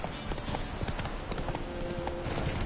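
Roach the horse trots along a road in Witcher 3, hooves clopping in a quick, even rhythm at close range, with faint game ambience underneath.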